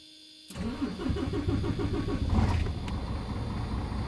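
After a quiet moment, a car engine cranks and catches with its battery disconnected, revs briefly, then settles into a steady, close idle with a rhythmic low throb.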